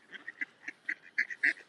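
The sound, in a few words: ducks by a canal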